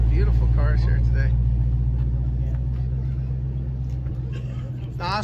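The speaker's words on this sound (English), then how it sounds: "I love to hear the cars and things go by when you're here." Cars roll past at an outdoor car cruise-in, a steady low rumble of engines and tires that fades gradually, with people talking over it.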